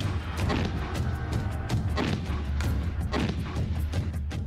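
Repeated heavy booms from howitzer artillery firing, a steady series of deep thuds and blasts roughly every half second to second, loud and continuous with no voices.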